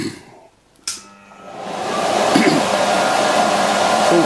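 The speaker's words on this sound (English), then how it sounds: "now the blower is positioned 3 feet away" An air blower starts up and builds into a steady, loud rushing roar, directed at a horizontal axis wind turbine with a venturi from about three feet away.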